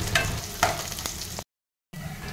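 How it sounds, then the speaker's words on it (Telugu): Chopped onions fry in hot oil with mustard and cumin seeds, a close, steady sizzle and crackle with a few stirring scrapes, briefly cut to silence before the frying resumes. "ఇప్పుడు అందులోకి కట్ చేసుకున్న ఆనియన్స్ వేసుకొని ఒక 2 నిమిషాల పాటు బాగా వేయించుకోవాలి"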